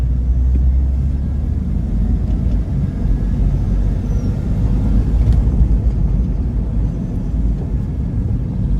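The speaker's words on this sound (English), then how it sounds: "I can't believe how well this car drives actually." A Porsche 986 Boxster, freshly repaired with a new driver's front suspension leg and a space-saver spare fitted, drives along a road, giving a steady, loud low engine and road rumble throughout with no talking.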